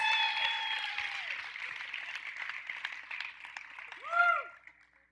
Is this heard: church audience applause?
yes